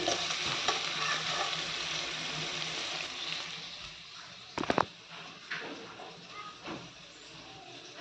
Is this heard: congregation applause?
no